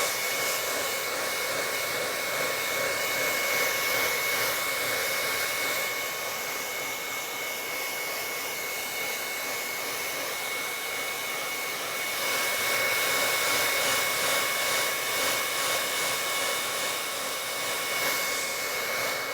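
A hair dryer blows steadily on a wet painting, a constant close whooshing hum that swells slightly as it is moved, with no talking.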